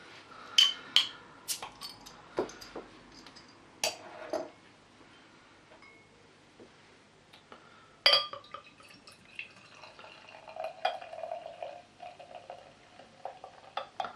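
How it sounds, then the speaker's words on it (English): A bottle of BrewDog IPA is Dead HBC single-hop IPA is opened and poured into a glass: scattered quiet clicks and a sharp snap, followed by a soft, uneven trickle of liquid, with no voices. "So let's get it open and get it in the glass."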